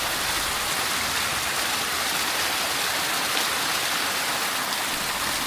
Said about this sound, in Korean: 폭포는 아니지만 물 떨어지는 소리가 리듬을 타고 있네요